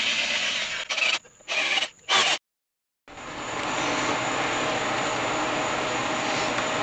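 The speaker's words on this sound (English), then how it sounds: "Alright, we got our holes drilled." A power drill bores bolt holes in the bead breaker of a Harbor Freight Olympia tire changer: a few short whirring bursts, a brief silence, then a long steady high-pitched drilling whine.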